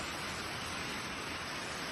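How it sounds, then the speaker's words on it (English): Heavy rain from a severe thunderstorm in the Eastern Cape pours down as a dense, steady, hissing roar, loud and unbroken from start to finish with no voices. "Wow, that's a lot of rain."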